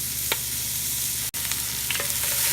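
Sausage dropped into a hot pan over high heat crackles and sizzles loudly and steadily, with a few sharp pops and brief clinks of utensils, without any talking.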